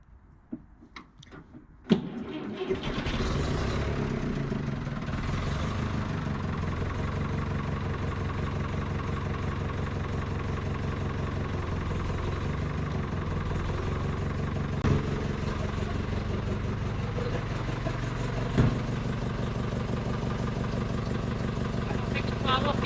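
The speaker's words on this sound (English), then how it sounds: "So what we do now is start the tractor." A farm tractor's engine cranks and catches, then settles into a steady, throbbing idle during a hydraulic pump pressure check, running continuously with a few brief clanks and faint talk nearby.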